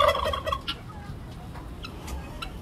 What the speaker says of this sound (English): And the Old English Bantam chicken,